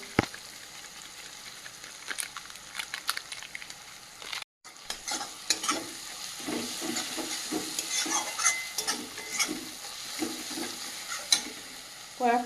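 Goat meat with turmeric and Kashmiri chili powder sizzles in a pan under frequent scraping stirs and clinks of a utensil against the metal, with a brief cut in the sound, then continued frying.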